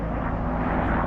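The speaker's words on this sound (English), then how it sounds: "Helicopter flying over, that's always cool." A helicopter flies over the flooded James River on a calm day, a loud, steady engine drone with a low rotor rumble filling the whole moment.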